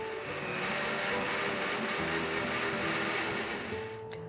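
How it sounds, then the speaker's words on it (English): A blender whirring as it mixes eggs and cottage cheese for egg and herb zucchini muffins, a steady mid-pitched motor hum with shifting tones, moderately quiet and alone, cutting off abruptly at the end. "I'm doing it in a blender,"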